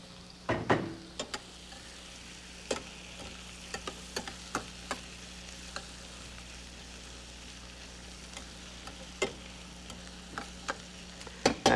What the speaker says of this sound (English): now let's take our onions, put those in our nice hot butter